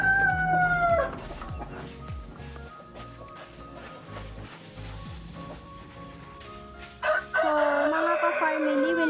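Several heritage-breed roosters crow loudly and nearby, one at the start and others near the end, over a busy background of clucking and farmyard noise.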